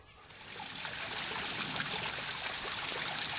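Creek water flows steadily at Howard Creek, a broad continuous rush and splash that fills the whole stretch at moderate loudness, fairly close, with no talking.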